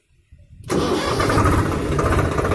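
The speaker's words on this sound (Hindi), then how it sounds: "किसान भाई अपना क्लच दबा दिए और ट्रैक्टर स्टार्ट करते हैं" A tractor engine cranks briefly after a quiet moment, then catches and settles into a loud, steady running rumble close by.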